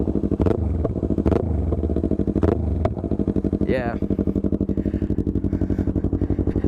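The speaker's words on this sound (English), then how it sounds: "But that's the exhaust tone." A 2015 Yamaha R3 motorcycle idles with a loud, steady pulsing exhaust burble close by, with a couple of sharp revs and pops early on and a brief voice partway through.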